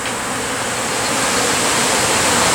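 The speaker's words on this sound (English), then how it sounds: "That's a lot of bees to fill in that." A large swarm of bees buzzes steadily and loudly around a wooden bee box at a house, a dense continuous hum with no talking.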